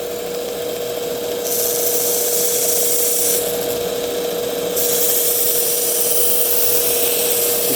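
A belt grinder puts the final grind on a pocket knife blade during a repair, a steady loud abrasive rasp with a constant whine that swells in brighter bursts as the steel is pressed to the belt, no voices.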